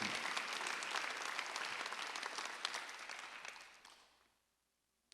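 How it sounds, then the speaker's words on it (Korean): A church congregation claps steadily during a Sunday worship service for about four seconds, dense and full, then the applause fades out into near silence. "그 말로 뿌린 대로 하나님이 해주는 것이면 박수 하나 들어주세요"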